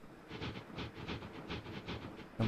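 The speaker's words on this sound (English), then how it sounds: "jump on board this train" A train in a city-building video game runs with a rhythmic, evenly spaced clatter of wheels over rail joints and a soft hiss, moderately quiet and steady, ending on a louder thump.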